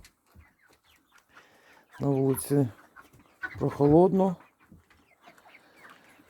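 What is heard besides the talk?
chickens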